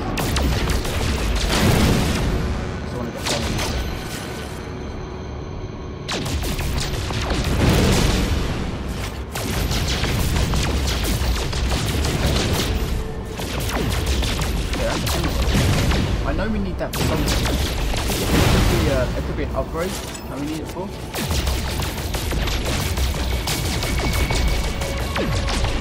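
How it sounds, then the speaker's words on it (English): Weapon fire in No Man's Sky, loud repeated booming, crashing blasts in bursts across the whole stretch, with short quieter gaps between volleys. "I actually want to shoot some of these things"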